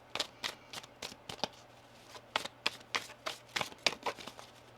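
A deck of tarot cards is shuffled up close in a quiet room, a rapid series of crisp papery riffles and slaps, some bursts clustered together and others spaced apart, with no talking.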